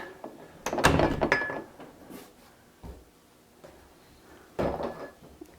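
A few hollow wooden thunks and knocks on a door to loosen a painted-in hinge, a cluster of taps followed by a pause, then a single knock and another short burst.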